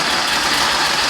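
A 1974 Porsche 911 coupe engine runs steadily just after its install, a close, continuous rough rumble with slight popping, heard alone without voices.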